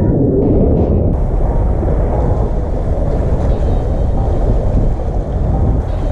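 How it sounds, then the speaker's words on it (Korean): Strong wind blowing by the sea on the Gangneung coast, a loud steady roar buffeting the microphone throughout, with no voices. "바람 부네."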